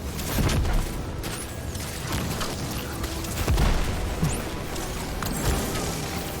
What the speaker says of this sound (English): So the explosion's a little bit stronger than just hitting him with a body shot from an arrow.